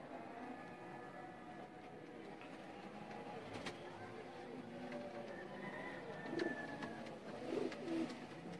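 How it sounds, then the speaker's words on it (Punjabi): Soft cooing of Chuha pigeons at moderate distance over a quiet background, with a few brief clicks and taps. "ਚੂਹਾ ਕਬੂਤਰ ਦਿਖਾਉਣ ਲੱਗੇ ਆ ਪ੍ਰਿੰਸ ਕਬੂਤਰ"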